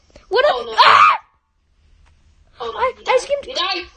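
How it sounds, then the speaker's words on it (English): A person screams loudly and in anguish while playing the Roblox-style game Build a Boat, two long wailing bursts around a short silence, then more strained cries that trail off. "I screamed so loud."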